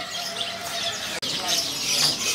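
Canaries in a bird shop kiosk chirp and trill steadily in a dense chorus, with someone talking over the birdsong.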